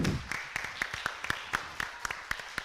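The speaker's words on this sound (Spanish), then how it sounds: "Un aplauso para todos vosotros." An audience at an education conference claps in a sparse, even rhythm, each sharp clap distinct and moderately loud over a quiet room.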